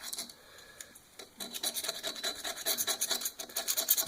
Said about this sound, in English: I'm going to take a razor blade and I'm going to clean the gasketing, the mating surface here